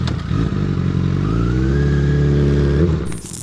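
A motorcycle engine revs hard and close, its pitch climbing and holding in a loud, rough roar before it cuts off sharply.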